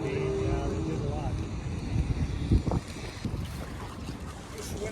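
Steady wind roars across the microphone aboard a Farrier F25C trimaran under sail, with water rushing past the hull and a few knocks; voices talk faintly underneath.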